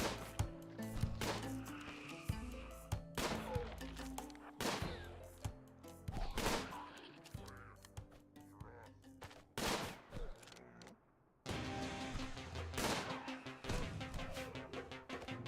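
Rapid gunfire from a colony battle in the game RimWorld, a string of sharp cracking shots and bursts, some in quick clusters, with a short lull before firing resumes, fairly quiet overall.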